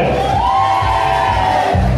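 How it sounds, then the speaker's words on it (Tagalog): A large crowd at a Christmas party cheering and shouting loudly in a dense, continuous roar, with whoops rising above the din and no distinct clapping standing out. "pahingi naman po ng isang malakas na palakpakan na may kasama sigawan"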